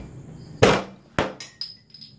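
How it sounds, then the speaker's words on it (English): A beer bottle top knocked off against a balcony edge outdoors: one sharp, loud glass crack followed by a second smash and a few lighter clinks of glass, with no talking. "Just smashed it off on the edge of the balcony"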